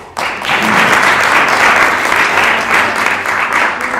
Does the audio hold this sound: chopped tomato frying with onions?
no